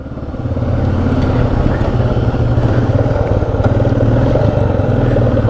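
Motorcycle engine running steadily and loud throughout a monsoon ride to Ranakpur in Rajasthan, a constant close rumble that swells after the first second, with faint voices partly mixed in.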